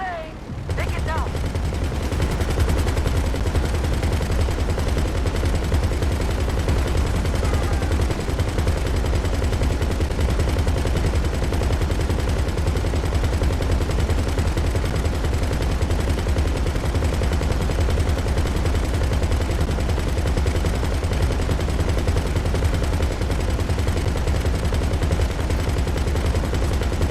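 Sustained 20mm aircraft cannon fire in GTA 5 Online, a dense, loud, unbroken roar of rapid shots with heavy low rumble lasting the whole stretch, with faint voices underneath.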